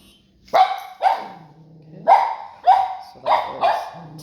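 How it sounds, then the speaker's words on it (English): A dog barks six times in short, loud bursts spaced unevenly, with a few quiet gaps between them and no talking. "I'm going to toss Faze a treat to make Polly barking a happy thing for her"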